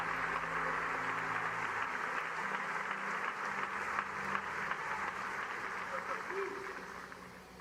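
Church congregation claps together in a steady, broad wash of applause that holds for several seconds and then gradually fades.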